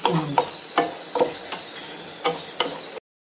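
Ivy gourd is deep-fried in oil for a kadai fry, with a steady crackling sizzle broken by repeated sharp stirring scrapes in the pan at close range, ending abruptly.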